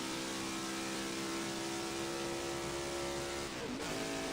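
A NASCAR race car's engine drones steadily on a warm-up lap in the NASCAR Rivals video game, a loud sustained hum that shifts pitch briefly near the end.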